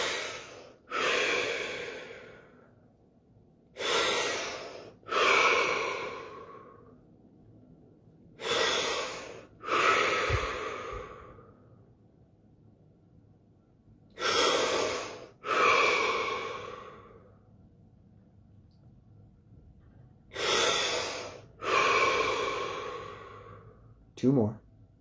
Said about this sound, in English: 7 deep breaths, here we go.